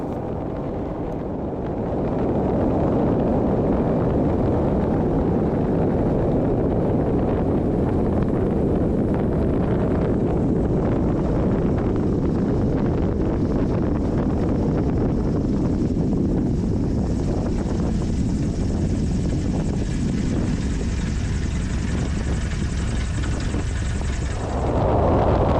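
A Carbon Cub light aircraft lands and rolls out on a grass strip, a loud steady engine drone mixed with heavy wind rush at the microphone, continuous and close, easing slightly near the end.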